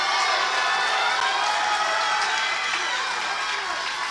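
A church congregation claps and cheers loudly for a woman named Sister India during a prophetic service, a dense, steady roar of applause and shouts close by for several seconds.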